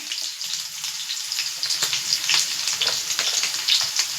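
Sliced onions fry in a pan for a restaurant-style paneer masala, a soft, steady sizzle with scattered crackles and occasional stirring scrapes, close and moderately quiet, no voices.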